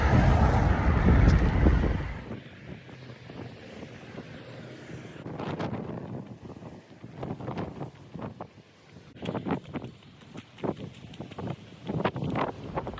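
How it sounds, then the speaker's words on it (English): Strong wind buffets the microphone during an outdoor run on a sunny day, with heavy roaring gusts at the start, then rough, uneven blustering that rises and falls throughout. "This wind is really bad today."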